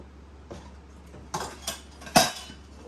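A small pot and other kitchenware handled while decluttering a kitchen space, a few scattered knocks and clinks building to one sharp metallic clatter, close and without talk.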